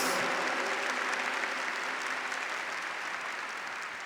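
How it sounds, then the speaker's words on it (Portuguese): A church congregation applauds together in a dense, steady wash of clapping that stays fairly even before easing slightly toward the end, with no voices over it. "Vamos aplaudir com toda a força, com toda a coragem, com toda a fé a palavra de Deus."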